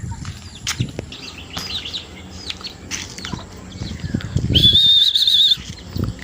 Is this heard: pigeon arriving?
yes